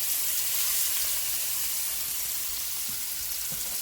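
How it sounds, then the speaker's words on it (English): Shrimp sizzling in a hot frying pan while cooking for a lobster and shrimp pasta, a steady hissing crackle of oil, continuous and fairly soft, with a few faint knocks underneath. "And I'm going to add these to the pan. You hear that sizzle."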